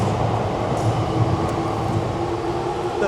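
A train rumbles loudly overhead on elevated tracks above a street in Akihabara, Japan, a steady heavy roar with a faint sustained squeal, near and continuous throughout.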